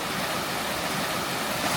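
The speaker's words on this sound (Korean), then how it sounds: "돌 사이에 부딪히는 파도 소리가 청하게 들립니다." Waves wash over smooth, wave-polished pebbles on a pebble beach on the coast near Gangneung, a close, continuous rushing hiss with no voices.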